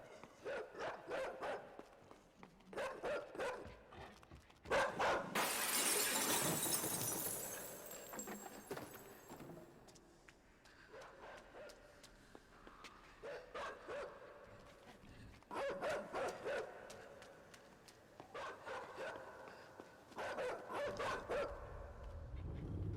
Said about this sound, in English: There's a guy with a dog in the background.